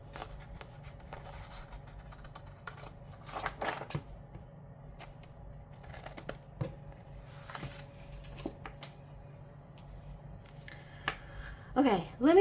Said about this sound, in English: I'm just trimming these edges.